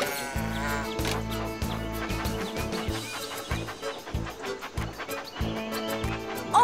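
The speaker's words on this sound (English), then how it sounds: "Sheep have wandered onto the tracks!" Cartoon sheep bleating on railway tracks in a children's train game, repeated wavering bleats layered over bouncy background music with a steady beat.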